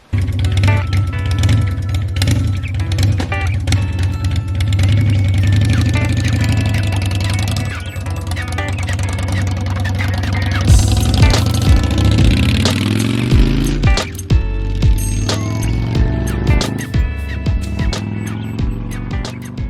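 An engine with carburetor problems runs rough and loud nearby, a steady uneven hum that shifts pitch and surges partway through, with a voice talking over it.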